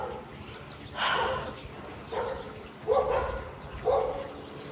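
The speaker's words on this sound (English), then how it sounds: "my neighbor's dogs are barking" Neighbor's dogs bark from a distance outside, four separate woofs spaced about a second apart, muffled and moderately faint.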